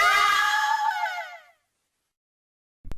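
A woman's long, loud scream rings out for help, sustained for about a second and a half before cutting to silence, then a brief sharp knock at the end.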